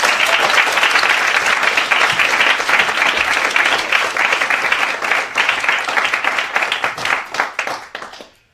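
An evening lecture audience applauding to welcome a speaker, a steady wash of many hands clapping that holds for several seconds and then tapers off to silence.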